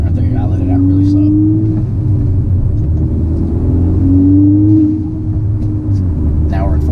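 A manual car's engine rumbles close and steady, its revs dipping and rising around a downshift into second gear, with a voice talking over the drone.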